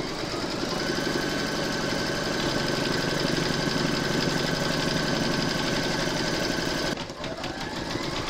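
A domestic embroidery machine stitching an applique outline, with a fast, steady mechanical whirring and needle chatter up close that shifts in pitch near the end as the hoop moves.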